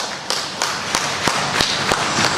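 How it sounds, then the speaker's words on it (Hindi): Applause for an honoree at a grand doctorate award ceremony: sharp, evenly spaced claps at a steady rhythm of about three per second, fairly close and clear. "तो इनके लिए जोरदार तालियां दीजिए एक बार।"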